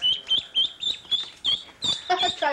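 Ducks quacking as they are picked up by the handful: a rapid run of loud, close, nasal calls in an uneven rhythm, with short pauses, and a person briefly talking near the end.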